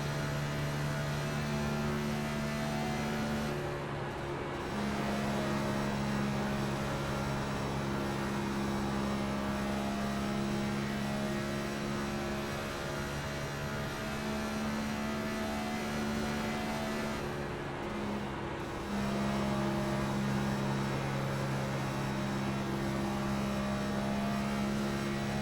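NASCAR Cup car engine heard from the in-car view in the iRacing video game, a steady loud droning roar with sustained tonal hum throughout the last lap, no talk.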